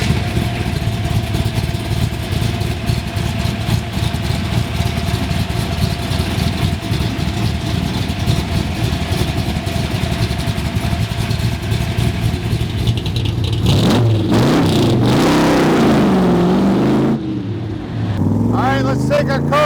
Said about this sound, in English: Love the sound of the exhaust. It's got awesome mufflers on it.